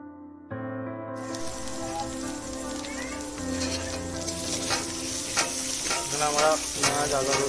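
Onion, ginger, garlic and slit green chilies hit hot oil for a chicken biryani, a loud crackling sizzle that erupts after a quiet start and keeps spitting and popping densely, close up, with a low steady hum beneath.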